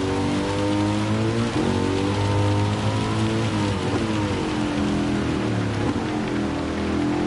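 Steady rain in the racing video game Gran Turismo 7 during a manufacturer race, a dense continuous hiss of drops on the surface layered over car engine drone with shifting, rising and falling pitch throughout.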